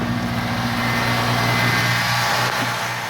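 Close, steady idle of a Ford Mustang V6 with a small exhaust leak: a continuous low engine drone with a faint hiss on top and no voices.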